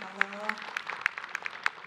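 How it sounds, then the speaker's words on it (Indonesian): Scattered, faint hand claps from a small audience at an Islamic religious talk, a handful of separate sharp claps spread unevenly, with a brief voice at the start. "Tepuk tangan buat Bunda Tuti."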